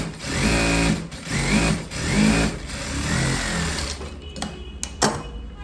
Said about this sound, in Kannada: ಸೊ ಅದಕ್ಕೋಸ್ಕರ ಈ ರೀತಿ ನಾವು ಮೇಲ್ಗಡೆಯಿಂದ ಹೊಲಿಗೆ ಹಾಕೋದು.